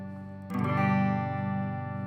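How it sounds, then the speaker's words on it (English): After a brief quiet moment, an electric guitar chord on the bridge (treble) pickup is struck and sustains brightly with a twangy edge and gentle pulsing decay. "When I change that to the treble pickup"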